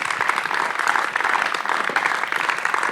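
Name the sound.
audience applause for the panellists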